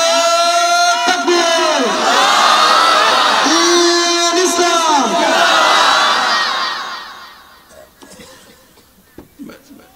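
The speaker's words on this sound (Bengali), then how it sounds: "একটা তাকবীর দেন আওয়াজ করে বড় করে" A large crowd at a Bengali religious sermon shouting takbir loudly in unison, two long swelling chants that fade, followed by scattered murmurs and noise.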